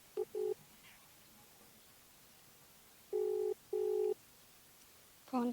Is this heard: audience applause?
no